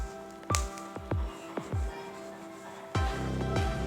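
Hands kneading khajoori dough made of flour, maida and sugar, giving a series of soft, wet squishing presses at an uneven rhythm, close and fairly quiet with pauses between strokes.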